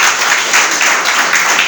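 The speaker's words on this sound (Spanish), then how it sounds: "Denle un aplauso al Señor." Church congregation applauding together in a steady, dense wash of clapping that carries on throughout without pause.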